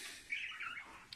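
Soft, high chirps and warbling from pet budgerigars, faint and somewhat distant, with a quiet airy background.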